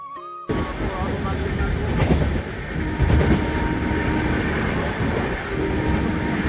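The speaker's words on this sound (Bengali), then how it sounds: "এই কুয়াশার মধ্যে থেকেই আমাদের ট্রেন ছুটে চলেছে প্রয়াগরাজের উদ্দেশ্যে" A passenger train bound for Prayagraj runs through morning fog, a loud, steady rumble with rhythmic clickety-clack from the wheels heard from on board.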